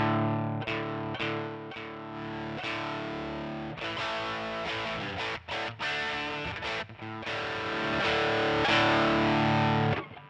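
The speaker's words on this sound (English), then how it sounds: "just a boost with some grainy grit around it" NUX MG-300 multi-effects unit running its Distortion Plus model on electric guitar, a gritty, grainy boosted distortion over sustained chords and short riffs, loud and continuous with brief pauses.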